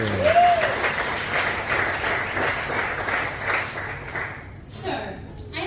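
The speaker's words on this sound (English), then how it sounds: "So round of applause to all of you." Wedding guests in a reception room applaud together, a full, continuous wash of clapping that fades slightly toward the end before a voice begins speaking.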